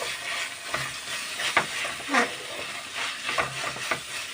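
Chicken parts curry sizzles and sautés in a pan with coriander leaves, a steady frying hiss broken by recurring stirring scrapes and clacks of a spoon against the pan.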